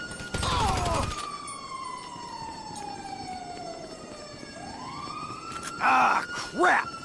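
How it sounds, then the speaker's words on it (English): An ambulance siren in GTA V wails with a long falling tone, then climbs again, loud and near over traffic noise, with a couple of louder bursts near the end. "it's the ambulance!"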